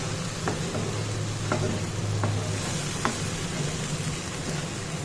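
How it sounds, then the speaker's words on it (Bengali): Spice masala paste of cumin, ginger, bay leaf, dried chilli, cashew, raisin and cardamom frying in a pan, a dense, steady close sizzle with a few sharp stirring scrapes. "এবারে মশলাটা কষাচ্ছি"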